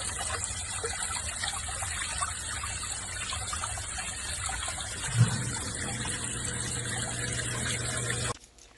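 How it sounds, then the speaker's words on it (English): Storm water gushes steadily into a crawl space drainage basin, a continuous loud rushing and trickling with one brief thump midway, then cuts off abruptly near the end. "the amount of water that you just seen dumping inside that basin right there"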